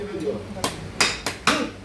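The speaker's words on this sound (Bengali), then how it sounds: "এই দিয়ে এগুলো গোস্ত কাটাকুটি করতেছি" Sacrificial meat is being chopped for Qurbani in Al Buraimi, Oman, with four sharp, loud chopping blows landing at uneven intervals, close up.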